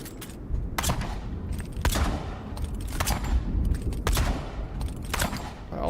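Gunfire in the game Avowed: a steady run of sharp shots, about one every second, cracking over a dense rumbling battle bed at moderate level.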